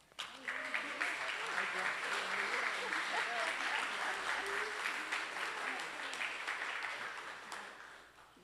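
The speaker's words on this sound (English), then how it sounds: "give your love through applause" A congregation at a Sunday church service applauds, a warm, sustained clapping from many hands that builds quickly, holds steady for several seconds, then tapers off near the end.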